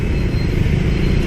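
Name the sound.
busy street traffic in Saigon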